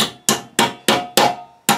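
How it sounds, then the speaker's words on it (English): A hammer strikes a stainless steel band fitted in a Band-It C00169 banding tool, six sharp, evenly spaced metallic blows ringing out close and loud with no voices. "hammer this down."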